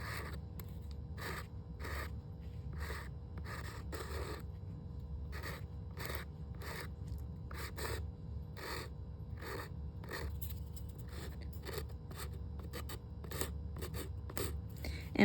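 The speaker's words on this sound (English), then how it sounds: "Got to turn this around and file the side." A nail file rasps along the side of a natural fingernail in quick, close, quiet strokes, a regular series of short scratchy bursts with brief pauses between them.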